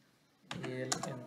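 A few quick keystrokes land on a computer keyboard, the L key and then Enter, as a short burst of crisp clicks after a brief silence, close-miked, with a faint voice nearby.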